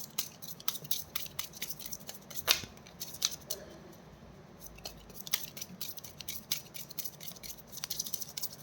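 A deck of tarot-style angel cards is shuffled by hand, producing soft, quick papery riffles and light taps, close but quiet, in irregular bursts without speech.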